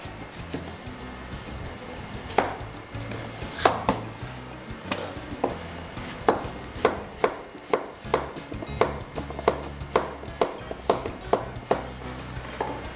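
A knife chops squash steadily on a cutting board, sharp regular thuds repeating quickly and close by, with no talking.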